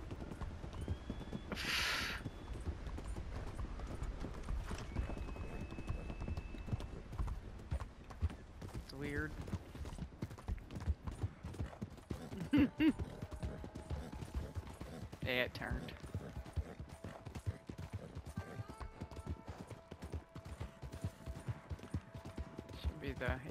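Hooves clip-clop in a steady rhythm under a game soundscape, with someone talking over it at times.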